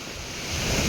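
Strong sea waves churn with a loud, steady wash of surf and wind roar that swells slightly toward the end of a brief moment.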